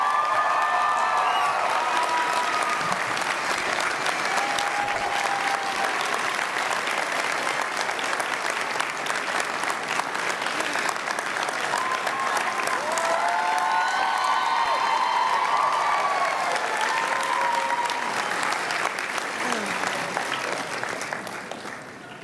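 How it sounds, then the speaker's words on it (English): A large audience at a school graduation ceremony gives a long, sustained round of applause with some cheers and whoops, steady and loud for over twenty seconds before tapering off. "give her a round of applause"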